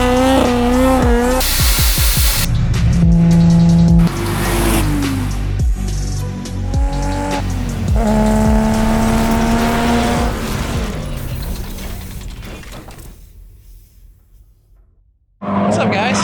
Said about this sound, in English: So we got the car hooked up on the dyno.